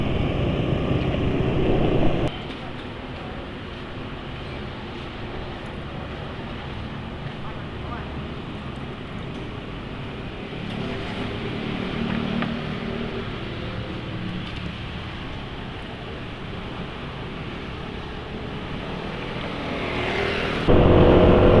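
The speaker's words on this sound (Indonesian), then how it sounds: "untuk sementara suara mesin masih halus ya" A motorcycle engine running on fresh Orange 4T 20W-50 oil runs steadily with a smooth, even drone, close and continuous throughout, with faint speech over it.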